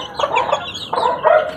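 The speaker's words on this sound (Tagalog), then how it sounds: "punong-puno pa yan dyan sa kawayan na ano na mga manok" Peruvian gamefowl chickens cluck close by in two short bursts of throaty, rapid calls separated by a brief pause, loud and clear with no talk.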